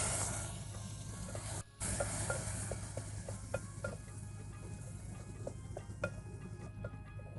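Cumin, asafoetida, turmeric and tomato tempering in hot oil on a wood-fired stove, giving a steady close hiss with light stirring clicks and a brief dip partway through.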